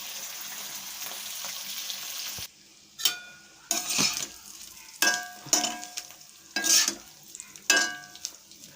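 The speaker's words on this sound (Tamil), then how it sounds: "அந்த கருவாடு வந்து வறுக்கிறதுக்கு மட்டும் எண்ணெய் கொஞ்சம் அதிகமாக தான் செலவாகும்." Dried fish fries in plenty of oil: a steady sizzle at first, then a run of sharp spitting bursts and stirring scrapes at fairly regular intervals, close and fairly loud.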